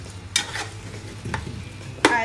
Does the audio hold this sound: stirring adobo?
yes